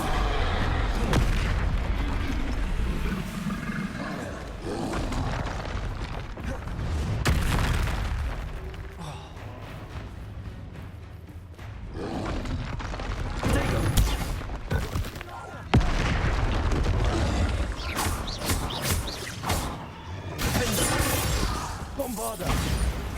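Repeated Bombarda explosion spells in Hogwarts Legacy, heavy booms and blasts bursting at irregular intervals amid combat noise, with a voice calling out spell names.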